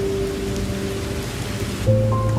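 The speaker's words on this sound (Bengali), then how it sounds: "বৃষ্টি হইতেছে।" Rain falls at Rajodi beach as a continuous broad wash, with steady tonal hums running over it and a louder tonal sound coming in near the end.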